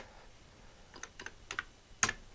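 Keys on a restored Atari 65XE computer keyboard are pressed in a few sparse clusters of clicky taps, close and fairly quiet, the last stroke loudest, over a faint hum.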